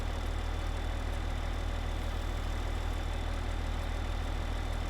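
A tractor engine in Farming Simulator 15, a steady low mechanical drone with an even pulsing rumble, constant in level and running alone without talk.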